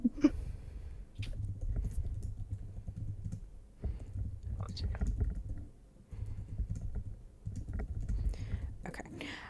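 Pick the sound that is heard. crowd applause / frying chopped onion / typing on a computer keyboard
typing on a computer keyboard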